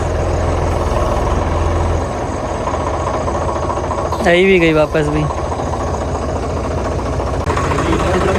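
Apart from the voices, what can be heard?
old tractor engine idling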